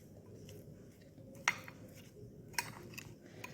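Utensils clink against a bowl while corn salad is stirred and mixed, with two sharp taps standing out over a quiet, steady background rustle.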